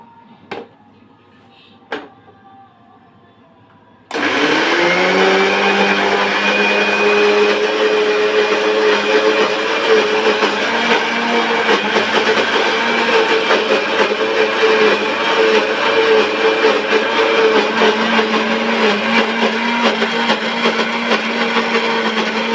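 A kitchen blender grinds coconut chutney with nuts and salt, starting abruptly after a few soft knocks and then running loud and steady with a high whirring drone to the end.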